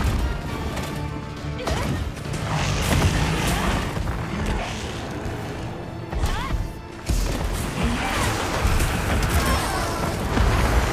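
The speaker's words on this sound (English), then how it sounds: "Big charges, big swings, big fire explosions." Crashing fiery blasts and heavy impacts from a monster fight against Gravios in the video game Monster Hunter Wilds, loud and continuous with repeated booming hits, a few brief dips, and faint talk underneath.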